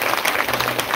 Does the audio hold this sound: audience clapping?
yes